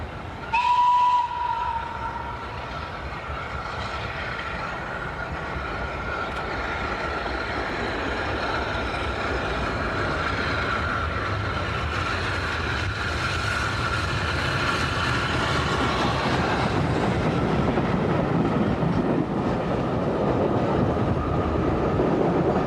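Restored M7 steam locomotive on a line heading toward Salisbury: a brief whistle toot at the start, then a continuous rumble and rhythmic clatter of the moving train building steadily, with no talk.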